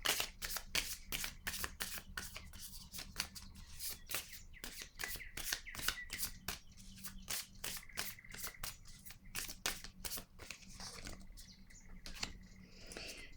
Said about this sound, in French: Je vais piger une carte noire.